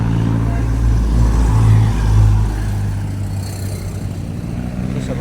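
Cars going by on a road near a river and market in Dasmarinas City, a steady close traffic rumble with engines swelling and fading as vehicles pass, faint voices in the background.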